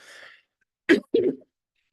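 Two short, sharp coughs close by, one after another, following a brief breathy sound, with silence in between.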